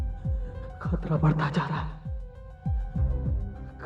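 Heavy, low heartbeat thuds pulse in steady paired beats throughout, dramatic and close, as a tense sound effect under someone speaking Hindi in a suspenseful horror drama.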